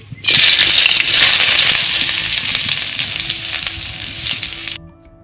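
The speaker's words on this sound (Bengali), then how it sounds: "আমি গরম সরিষার তেলে দিয়ে দিয়েছি হাফ কাপের মতো পেঁয়াজ কুচি, দিয়ে দিলাম 2টা তেজপাতা" Chopped onions and two bay leaves hit hot mustard oil in a pan for chicken kala bhuna, bursting into a loud, steady, close sizzle that fades slightly before cutting off near the end.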